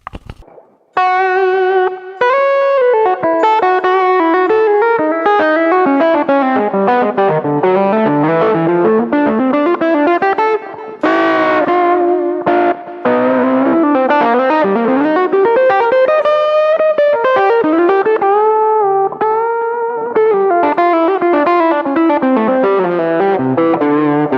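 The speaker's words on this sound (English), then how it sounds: "you can hear that it's a distorted guitar sound" Distorted electric guitar plays a continuous bluesy lead with bends and slides, sustained and gritty, with a faint chorus-like shimmer.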